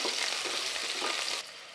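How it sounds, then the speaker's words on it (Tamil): Onions sizzle and fry steadily in a hot pan for vegetable pulao, a bright continuous crackle that cuts off abruptly near the end, leaving a quieter hiss. "இதை சேர்த்து வதக்கி விட்டுக்கலாம் வெங்காயம் வதங்கட்டும்"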